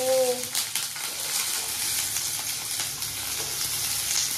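Whole cinnamon, cloves and cardamom sizzle steadily in hot fat in a pan for mutton chops, a dense continuous crackle with light stirring scrapes, close and even throughout.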